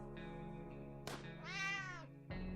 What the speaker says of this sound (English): That sounded like we killed the cat.